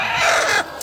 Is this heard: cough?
no